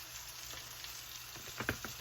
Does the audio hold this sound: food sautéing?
yes